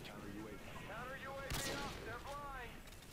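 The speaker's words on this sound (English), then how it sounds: "Friendly airstrike inbound." A friendly airstrike in the video game Modern Warfare 2 lands as a sharp, loud blast amid scattered gunfire, while someone talks throughout.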